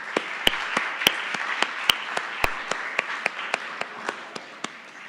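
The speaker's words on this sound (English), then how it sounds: "give a warm round of applause for Mr. David Moreno." An audience at a regional workforce development panel event claps in welcome, sparse individual claps ringing out one by one at a moderate pace, fairly close and fading slightly toward the end, with no talking.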